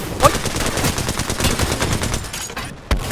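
Rapid automatic gunfire in the Apex Legends video game, a dense, continuous stream of loud shots with overlapping effects that cuts off near the end with a final sharp shot.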